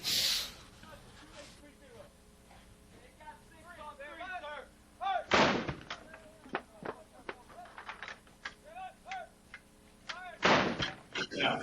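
Two loud, sharp booms from a field artillery gun firing rounds, each followed by a rumbling decay, with people talking in between.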